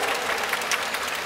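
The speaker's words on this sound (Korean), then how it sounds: "박수 부탁드립니다." Sustained applause from a large audience at an open talk for the Korean film Extreme Job, a steady dense wash of clapping with no voices.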